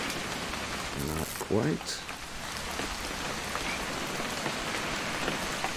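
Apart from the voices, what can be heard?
rain in video game What Remains of Edith Finch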